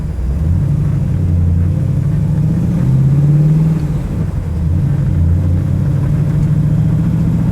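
Ford GT40 engine while driving, a steady mid-pitched rumble with a gentle rise in revs partway through, loud and close throughout with no talking.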